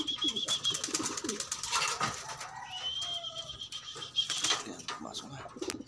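Pigeons cooing close by in low throaty bursts, mixed with a clear voice talking and some higher chirps and rustles around them.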